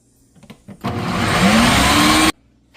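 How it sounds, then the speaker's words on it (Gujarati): A food processor grinds roasted eggplant and vegetables in one loud, steady whir of about one and a half seconds, with a faint rising motor whine, bracketed by quiet handling noises before and after. "બધા વેજીટેબલને ફ્રૂટ પ્રોસેસરમાં ગ્રાઇન્ડ કરી નાખીશું"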